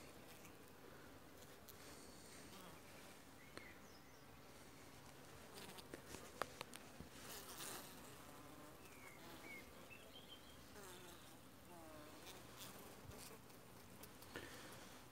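Honey bees crowd over capped brood comb inside a weak hive, a steady close buzzing hum with scattered crackles and wingbeats throughout, no voices.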